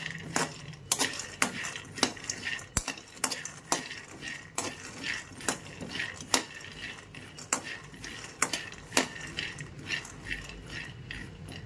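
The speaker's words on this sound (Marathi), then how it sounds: "तर गॅसवर मी एक कढई ठेवलेली आहे आणि त्यावर मी शेंगदाणे थोडेसे भाजायला टाकलेले आहेत" Peanuts being dry-roasted in a kadai on a gas stove rattle and scrape as a spatula stirs them, with sharp metallic clinks and scratchy strokes in an uneven, repeating rhythm, close and moderately loud.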